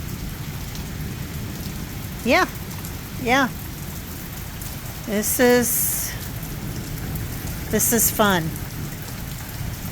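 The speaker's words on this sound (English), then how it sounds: "you can see here how much it's raining" Heavy rain pours steadily during a storm as a constant close hiss, while a person speaks a few brief words over it.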